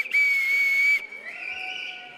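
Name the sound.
audience blowing whistles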